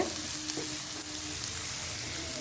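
Ginger garlic paste sautéing in hot oil in a pan for a fish fry, a steady close sizzle and crackle with a few light clinks of stirring, no voices.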